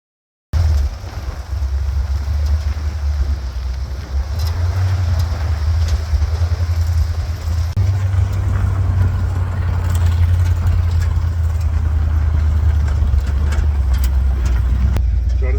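A Ford Bronco's engine drones steadily as it drives, a loud, constant low rumble heard close from inside the cab for the whole stretch.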